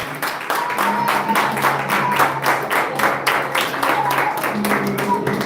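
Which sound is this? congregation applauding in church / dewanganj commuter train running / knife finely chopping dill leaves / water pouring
congregation applauding in church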